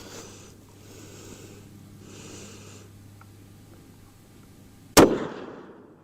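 A rifle in an MDT Oryx chassis fires a single sharp, loud shot that rings briefly and decays after several seconds of quiet background hum, with no talking.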